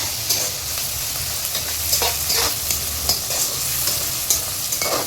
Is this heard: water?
no